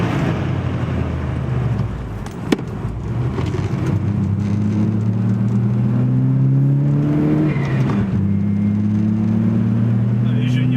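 A Volkswagen Golf Rallye G60 race car's engine revs and holds high RPM on the Magny-Cours circuit, pitch climbing steadily through gears from inside the car while someone talks over it.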